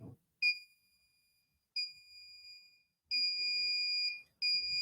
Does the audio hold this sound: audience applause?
no